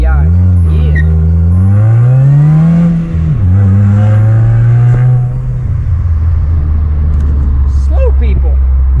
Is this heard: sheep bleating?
no